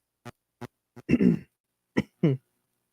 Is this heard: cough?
yes